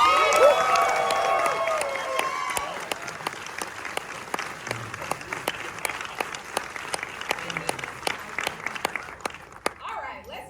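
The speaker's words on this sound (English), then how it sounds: "All right, let's do this again. Round of applause." Audience applause at a film Q&A screening for American Fiction, with many hands clapping densely at first, then thinning to scattered claps and a few cheers toward the end, while voices murmur underneath.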